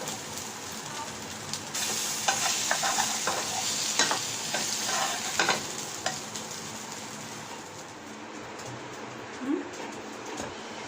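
A paratha fries on a pan, with loud sizzling and bursts of scraping as it is turned over, the frying easing off toward the end.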